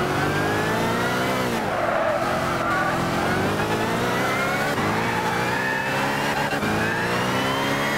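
Race car in Gran Turismo 6 accelerating hard through the gears, its engine note rising and dipping in steady loud sweeps with brief tire skids, heard close and continuous for the whole stretch.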